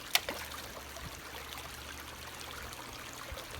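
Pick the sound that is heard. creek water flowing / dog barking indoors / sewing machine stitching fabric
creek water flowing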